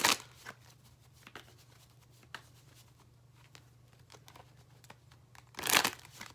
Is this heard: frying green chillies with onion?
no